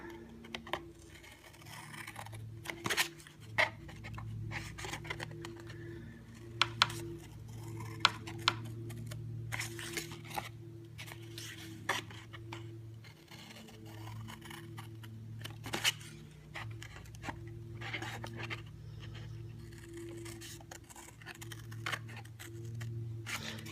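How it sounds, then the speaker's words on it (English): Scissors cutting into scored card while a tea light gift box is made, with a series of quiet, crisp snips in uneven bursts over a low room hum and no talking. "you're going to cut in on your score lines to the first line"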